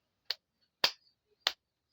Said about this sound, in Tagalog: So, tatlong palakpak,